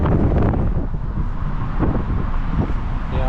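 Loud gusty wind buffeting the microphone outdoors in China, with low rumbling blasts rising and falling and a faint vehicle-like drone beneath.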